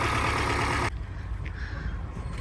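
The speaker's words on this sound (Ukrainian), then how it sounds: "такий тракторець нам допомагає" A small tractor's engine runs steadily during potato planting in a village field, a loud continuous drone that drops to a quieter, rougher idle partway through.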